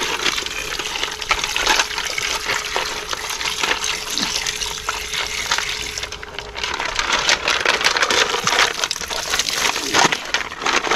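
Fresh water pours out in a steady, fairly loud gush to rinse freshly caught hermit crabs, running continuously for about eleven seconds with faint splashes and knocks mixed in.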